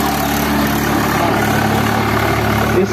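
A diesel tractor engine, a Sonalika Maharaja or Swaraj 744 FE, runs steadily at close range in a muddy field test, a loud continuous low rumble that does not let up.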